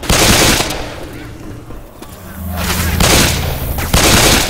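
Loud, dense gunfire in Left 4 Dead, a video game: a continuous roar of shots that dips for a moment in the middle and then surges again, with a low engine-like hum running underneath.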